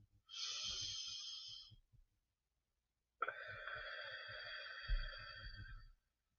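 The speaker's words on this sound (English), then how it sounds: "Inhale for a count of 4, hold for 2, and exhale for 6." Slow, deep breathing during a guided breath-counting exercise: a long, steady airy exhale-like sound, a pause of near silence, then another long breath ending with a heavier, rougher push, close and alone.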